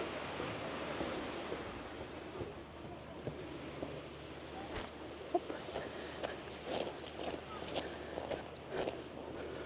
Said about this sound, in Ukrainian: Ось так виглядає море.